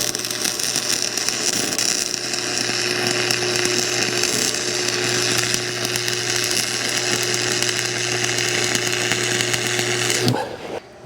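Stick welding on 3/16-inch metal with small rods makes a loud, steady crackling buzz over a constant electrical hum, running unbroken for about ten seconds before the arc cuts off abruptly.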